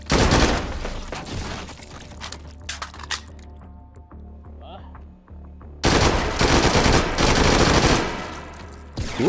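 Machine gun fire in the H3VR virtual reality shooter, with loud dense bursts at the start and again in the second half, separated by a quieter stretch of scattered sounds.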